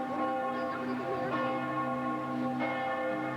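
Church bells at the Duomo in Italy ring with a steady, resonant peal, tolling repeatedly at moderate distance with rich overlapping tones.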